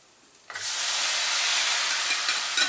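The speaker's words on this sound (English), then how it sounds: "the first thing I want to do is cook these beautiful little almonds a bit on their own" Almonds sizzling in a hot pan, a sudden loud, steady hiss of frying that bursts in after a brief quiet moment and holds evenly to the end, close and alone without talk.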